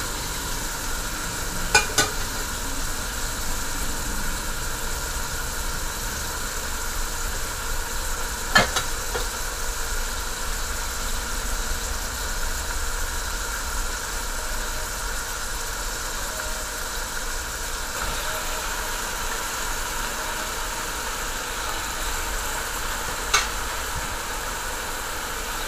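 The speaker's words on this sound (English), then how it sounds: "Now I'm going to add the eggplant in." Chinese eggplant pieces sizzle steadily in a hot pan for a barbecue beef dish. A constant, even frying hiss is broken by a few sharp clicks of stirring, with no talking.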